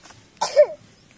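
A single short cough, close and clear, breaks a quiet background.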